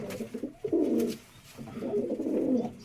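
Pigeons in a loft give low, rumbling coos, two drawn-out bursts close by separated by a short lull, with faint rustling beneath.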